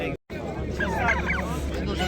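Poultry market in Rishton, Fergana, where fowl including roosters squawk and cluck faintly amid a steady hubbub of crowd chatter.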